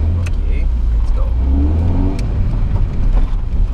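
An old 1995 Honda Accord 2.0 engine running on LPG, with a sport air filter, accelerates in city driving with a loud, deep low rumble and a rising growl, with faint talk under the engine noise.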